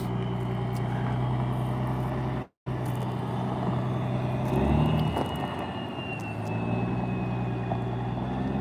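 A truck engine idles and rumbles through new exhaust stacks, a steady low drone with a brief cutout and a swell in the middle, heard close and continuous.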